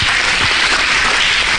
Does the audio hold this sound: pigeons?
no